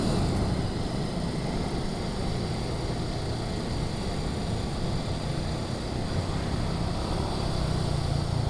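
Motorcycle engine noise on a busy Saturday night street, a continuous broad roar and hum, steady and fairly loud throughout, recorded on an action cam.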